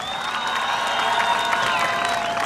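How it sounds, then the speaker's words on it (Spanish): A studio audience at a Mexican game show with balloon contests claps and cheers for a contestant named Ferchis, a steady wash of applause and crowd noise under a bright synth tone, with no spoken words. "¡el aplauso para Ferchis!"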